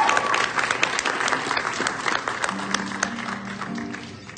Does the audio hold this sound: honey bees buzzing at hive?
no